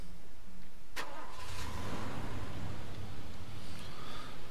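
A car engine starting in the video game Far Cry 2 on PS3, a sharp ignition crank followed by a steady, rumbling idle that continues loud and alone.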